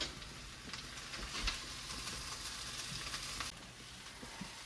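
Potatoes fry on a Blackstone griddle, crisping at the edges, with a continuous soft crackling sizzle and occasional faint pops, quiet and even throughout.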